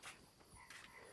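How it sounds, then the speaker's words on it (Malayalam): A frog croaks in short, faint rasping calls from somewhere near a house before rain, with soft insect chirps in the background and no talk. "തവള നോക്ക് കരയുന്നത്"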